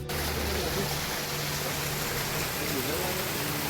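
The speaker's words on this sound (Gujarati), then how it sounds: "પાણીના ઝરણા જોઈ શકો છો આપ." A water stream flowing on Girnar hill during rain, a steady, dense rushing wash that stays even and close for the whole stretch with no break.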